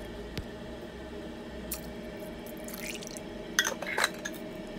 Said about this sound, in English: And then we add the coconut milk.